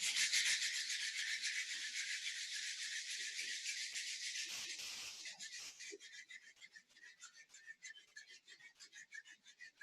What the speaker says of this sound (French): On va venir frotter les mains.